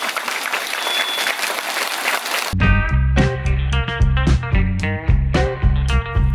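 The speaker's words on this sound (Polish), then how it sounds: "Wielkie brawa, drodzy Państwo!" An audience at the Trako railway trade fair in Gdańsk breaks into loud, crowded clapping for a few seconds. The applause then cuts off abruptly as a bright, rhythmic stretch of music with a heavy beat takes over.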